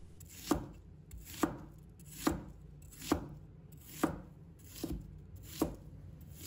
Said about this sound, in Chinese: 把它切成小块